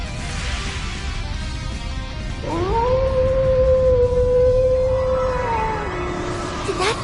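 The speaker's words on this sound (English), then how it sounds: "Did that howl cancel out the artifact's power?" A wolf howl in the video game Trails Into Reverie, one long sustained tonal cry that rises, holds steady and bends down at the end, loud over a rumbling game soundtrack.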